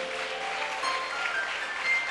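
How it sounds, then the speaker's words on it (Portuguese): A church congregation at a Bible school gathering claps for Jesus, a moderate wash of steady applause filling the room at medium distance, fairly even and without voices. "Quer aplaudir a Jesus?"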